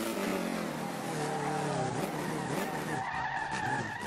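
A modded rotary-engined AvtoVaz 2104 sliding under braking at Brands Hatch in the SLRR racing game, a sustained loud tire squeal and skid over steady engine noise, fading slightly near the end.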